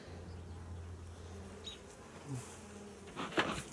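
A low, steady honey bee hum drones close by at a hive, with a few brief higher buzzes and rustling noises drifting in and out.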